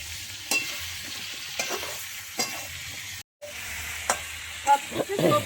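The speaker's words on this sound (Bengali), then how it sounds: "হলুদ গুঁড়ো দিয়ে আমি ভালো করে সবজিগুলো একটু ভেজে নেব।" Mixed vegetables frying in a pan with salt and turmeric powder, a continuous close sizzle broken by regular scraping stirs of a spatula.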